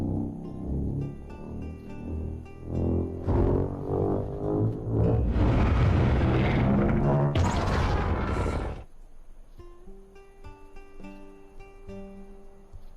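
Imitated fire blast in a tabletop fantasy game: a loud, roaring, crashing rush of noise that swells for several seconds and then cuts off, followed by quieter mechanical clanks.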